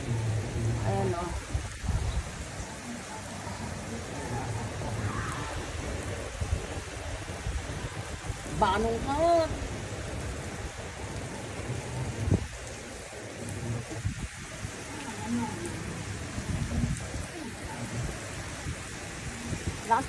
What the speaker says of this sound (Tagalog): lakas na ng hangin at saka ulan po guys